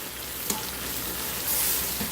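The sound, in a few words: pot roast searing and sizzling in pan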